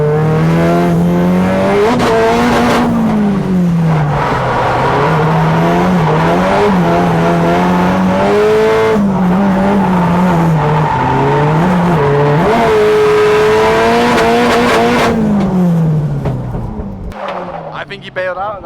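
A Nissan S13 drift car with a sequential gearbox revs hard and loud through shifts, its engine note rising and falling continuously with tire squeal layered in, with a voice talking over it.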